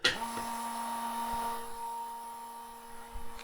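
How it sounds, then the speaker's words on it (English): A BagPress Pro 4 foot-pump vacuum press pump sucks air out of a veneer press bag, giving a steady, moderately loud mechanical whine and hum that runs continuously for several seconds. "Takes a very short amount of time for the pump to vacuum out the air"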